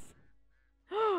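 A goose in The Witcher Enhanced Edition gives one short, loud, nasal honk, close and alone after a brief quiet stretch.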